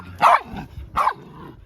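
Dog barking twice in short, loud bursts close by, with a softer whimpering tail after each bark.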